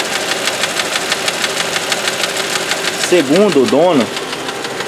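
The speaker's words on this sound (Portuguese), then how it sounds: "Olha o motor como é que treme, galera. E olha o barulho." A Land Rover Freelander engine idles roughly with a steady rhythmic knocking, the engine visibly shaking, while someone talks briefly over it near the end.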